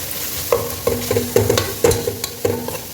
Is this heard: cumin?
yes